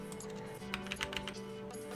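Typing on a computer keyboard while entering DNS server settings, a short run of soft key clicks over a steady electrical hum, fairly faint and close.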